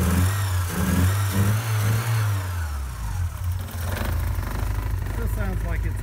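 A red 1984 Porsche 944 engine runs steadily after a fuel pressure regulator change, a close, low idle hum with a slight stumble, rising briefly in revs, while someone talks over it.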